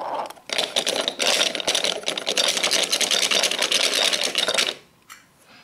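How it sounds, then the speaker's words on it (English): A diesel engine clatters and rattles loudly for several seconds, then shudders and cuts out abruptly, leaving near silence with one faint last sputter. "Shaking and spluttering, the diesel stopped."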